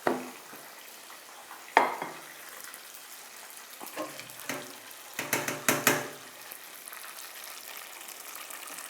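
Sweet potato chips frying in a pan beside beer-battered fish, a soft background sizzle punctuated by sharper clatters and scrapes as the chips are flipped, near and without voices.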